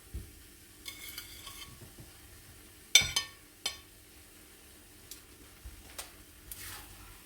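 Beef strips being tossed into a pan of stir-fried noodles and vegetables, soft sizzling under a few sharp clanks and scrapes of a utensil stirring against the pan, fairly quiet and close.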